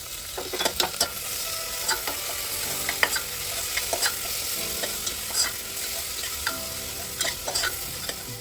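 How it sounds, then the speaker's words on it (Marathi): Onion and tomato sautéed in a pan for chicken yakhni pulao: continuous sizzling broken by frequent sharp spatula scrapes and clinks against the pan, close and fairly loud, with no talking. "आता कांदा टोमॅटो छान परतून झाला"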